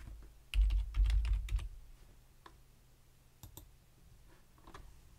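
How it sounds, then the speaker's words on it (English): Keystrokes on a computer keyboard, a quick burst of typing near the start followed by a few scattered single taps, close and clear in an otherwise quiet room. "And we'll type in Merry Christmas."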